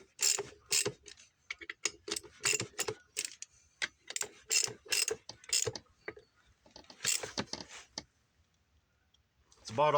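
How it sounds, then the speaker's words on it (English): Rapid ratcheting clicks from a wrench tightening bolts on a 2012 Arctic Cat 300 ATV during an oil seal repair, bursts of sharp close clicks separated by short pauses, then quiet near the end. "Now I just got to torque them down with the wrench"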